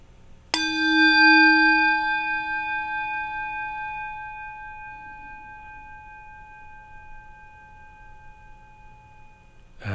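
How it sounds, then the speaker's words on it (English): A meditation bell is struck once, its bright metallic tone ringing out clearly and then slowly fading over several seconds into near silence, alone with no voices. "Listening to the full sound of the bell as it permeates your entire being"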